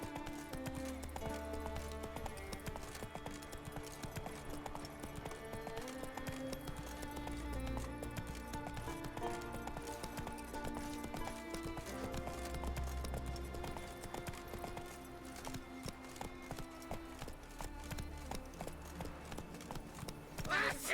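Roach, Geralt's horse in The Witcher 3, clip-clops along in a steady trot over a continuous musical score, the hoofbeats regular and moderately close throughout.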